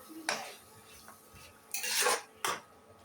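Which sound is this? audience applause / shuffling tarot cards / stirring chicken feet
stirring chicken feet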